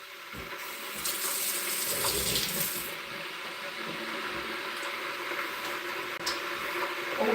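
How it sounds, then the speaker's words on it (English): Tap water runs steadily into a sink while hands are washed before making food, a continuous close hiss with soft splashing shifts and a few small knocks. "Always wash your hands before preparation of food."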